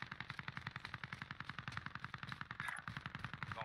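Rapid submachine gun fire in an Xbox shooter game, a continuous fast burst of evenly spaced shots lasting several seconds at steady loudness.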